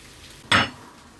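Food frying in a home cooking pan gets one quick stir, a single short burst of scraping and sizzle close by, otherwise quiet with no talking.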